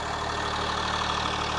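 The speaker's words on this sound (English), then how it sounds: "You might be able to hear the engine back here a little bit," Inside a 2024 Tiffin Byway 33FL RV, the engine idles toward the back as a steady, soft low hum with a faint regular knock, heard alone without talk.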